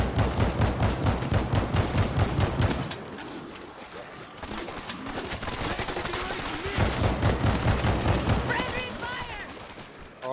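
Rapid bursts of automatic gunfire from the zombie shooter World War Z fill the clip, loud and repeated, pausing briefly around the middle before resuming, with voices talking over it.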